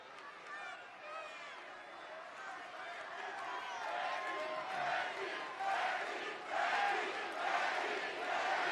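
A large arena crowd at a live WWE Raw wrestling broadcast roars and chants, a dense, sustained wall of voices that swells louder toward the end, heard from a distance with no clear single voice.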